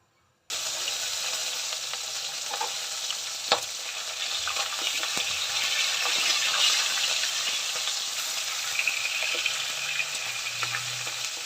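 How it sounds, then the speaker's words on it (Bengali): A fish head, salted and coated in turmeric, frying in a pan, giving a steady loud sizzle with small crackles and pops throughout. "মাথাটা একটু ভালো করে ভেজে নেব, লাল লাল করে।"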